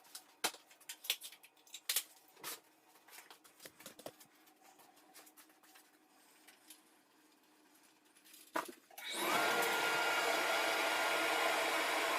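A planer cutter head shaving wood to flatten boards starts up as a loud, steady broadband roar after several seconds of scattered small knocks and handling clicks, close and continuous.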